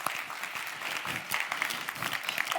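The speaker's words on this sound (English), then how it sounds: "I think we can give them a round of applause" Audience applause at a European Development Days 2016 panel discussion on development and trade, a steady, dense wash of many hands clapping that fills the room without pause.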